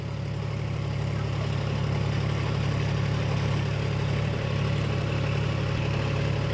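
Vehicle engine running at a constant rpm, a loud, even low drone with a steady hum that holds unchanged throughout.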